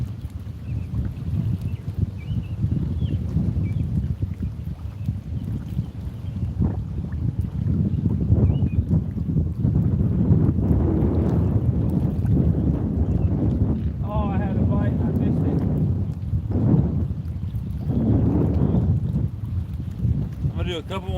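Steady, loud wind roars and buffets across an open lake during a fishing outing, a continuous low rumble of gusts hitting the microphone for the whole stretch.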